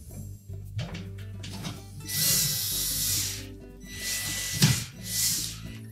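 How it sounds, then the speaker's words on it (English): A screw is driven through the back into the sub panel of a Whirlpool range during a door hinge replacement, heard as bursts of whirring power-driver noise with grinding and rubbing in between, close and moderately loud, with no talk. "we suggest that you install the screw through the back into that sub panel first"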